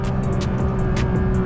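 The engine of a 2025 Porsche GT3 RS drones steadily under hard acceleration, a loud, continuous roar from inside the car with a constant high whine.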